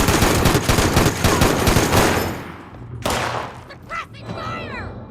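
Rapid automatic gunfire in the video game Fallout 76, a loud close burst of fast repeated shots that cuts off partway, followed by a shouted voice and scattered battle noise.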